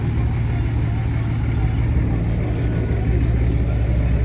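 A tow truck backs a 20,000-pound load into a shop in the snow. A low, steady engine idles with a constant drone, close and even, with no clear revving.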